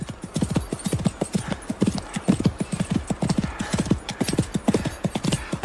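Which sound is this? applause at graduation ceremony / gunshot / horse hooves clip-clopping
horse hooves clip-clopping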